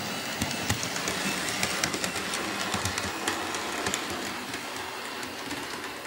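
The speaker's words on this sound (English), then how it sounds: "Very nice running locomotive." A ScaleTrains Rivet Counter GE ES44AC model locomotive runs along its track with a steady faint rolling hum and a patter of small rail clicks, with no talking.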